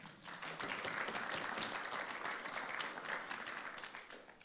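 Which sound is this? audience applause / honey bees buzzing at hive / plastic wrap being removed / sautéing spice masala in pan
audience applause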